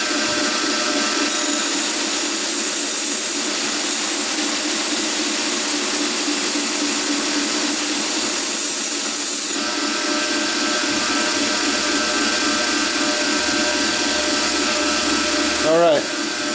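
A knife blade is hollow ground on a grinder, a loud, continuous high whine of the wheel against steel holding steady, with a slight change in pitch partway through and a brief shift near the end.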